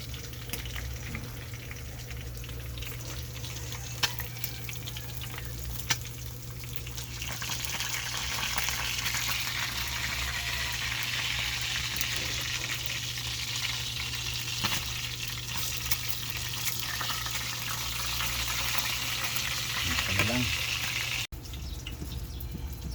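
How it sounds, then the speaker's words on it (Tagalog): Food frying in a pan for pinakbet, a steady loud sizzle with occasional stirring scrapes, running continuously with no talk. "tostado na yan. ganda ng pagkakaprito oh"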